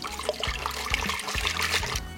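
A little water is poured into a pot to rinse out the last of a thick paprika and tomato sauce, trickling and splashing in uneven bursts close by, with no talk.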